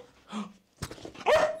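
A dog gives a single short, sharp bark on command, preceded by faint soft whimpering noises in a quiet indoor space.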